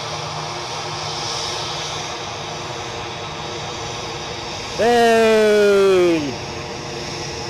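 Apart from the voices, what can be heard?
EasyJet Airbus A320-200 jet departing Edinburgh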